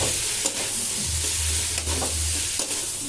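Rajma kidney beans frying in a pan with a steady sizzle, while a spatula stirs and scrapes in a few distinct strokes over about three seconds; close and fairly loud, with no speech.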